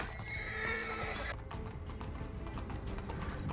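A horse whinnies loudly with clip-clopping hooves, the neigh dominating the first second and a half before hoof beats and scuffling continue steadily to the end, with no talk.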